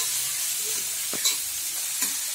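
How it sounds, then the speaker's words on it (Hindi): Grated carrots fry in ghee in a pan, a soft continuous sizzle with a few quiet spatula scrapes and taps, close and low in level, with no speech. "अब ऐसे ही हम लोग 2-3 मिनट तक गाजर को अच्छे से भूनेंगे"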